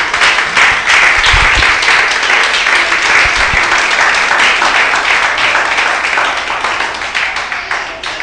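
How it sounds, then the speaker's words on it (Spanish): A church congregation applauding together, a loud, dense and sustained burst of clapping that carries on for several seconds and thins slightly toward the end, with no clear speech over it. "Si va a aplaudir, aplauda."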